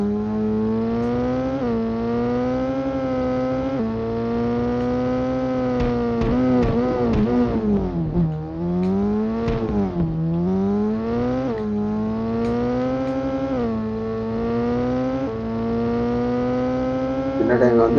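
A motorbike engine in an iPad bike racing game revs continuously and close, its pitch climbing and dropping repeatedly with gear changes and throttle swells.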